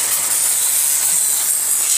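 A steady high-pitched hiss of a pressure washer spraying water to rinse a bike runs continuously and loud, close by and alone.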